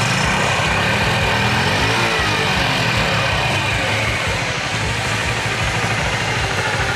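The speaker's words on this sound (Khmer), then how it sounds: "ម៉ាស៊ីនស្ងាត់អណាបងប្អូន" A 2018 Honda Super Cub 50 motorcycle engine idles quietly with a steady low, even rumble that continues without change throughout.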